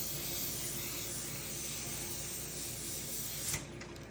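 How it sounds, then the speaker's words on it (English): A fine continuous hiss of an O2toDerm ampule mist sprayed onto the skin during a Korean oxygen facial, steady and close for about three and a half seconds before a brief bump and a quieter tail. "after we've finished our spraying on of the O₂toDerm ampule"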